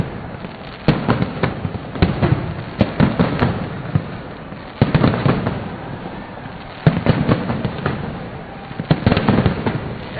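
Fireworks burst over Lahore in repeated volleys of sharp crackling pops and booms, coming in clusters every couple of seconds and fairly close, with no talk.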